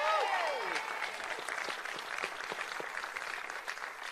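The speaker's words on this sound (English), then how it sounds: "Visit Milwaukee deserves a round of applause." Sustained audience applause fills a briefing room at the 2020 Democratic National Convention in Milwaukee. Dense, steady clapping runs throughout, with a brief whistle-like sweep at the start.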